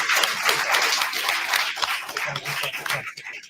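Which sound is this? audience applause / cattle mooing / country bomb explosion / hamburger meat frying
audience applause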